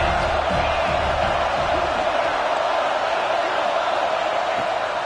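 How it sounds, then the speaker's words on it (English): A football stadium crowd keeps up a dense, steady roar that fills the space, a continuous wash of cheering with no distinct voices standing out. "this crowd is turning it up a notch"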